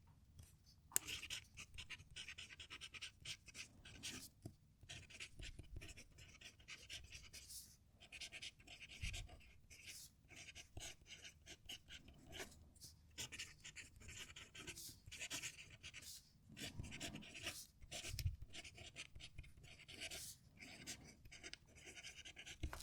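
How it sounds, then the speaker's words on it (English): A fountain pen, an Asvine V169, scratches out a sentence on paper, its nib giving a quite loud, slightly bouncy scratching in short strokes with brief pauses, close and alone throughout. "Again, another quite loud writing pen."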